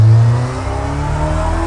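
Car engine in neutral with the clutch in, revving as the car pulls away on a track lap: a loud, steady mid-range drone with strong low harmonics that eases slightly after the first half-second and then holds.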